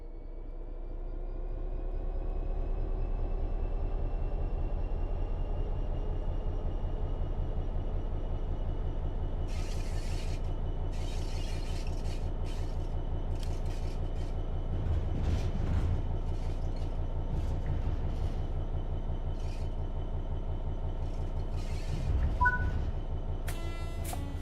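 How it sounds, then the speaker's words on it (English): A locomotive in a train simulator game accelerates under throttle, its engine droning steadily and growing louder over the first few seconds, with a low rumble and occasional clicks and rattles toward the end. "Apply some throttle to get the train moving."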